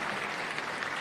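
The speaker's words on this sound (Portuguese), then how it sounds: "eu queria pedir aos empresários aqui presentes uma salva de palmas" Applause from an audience of business people at a formal solemn session in Brazil's legislature honoring the natural stone industry, a steady, dense wash of clapping throughout the brief moment with no voices.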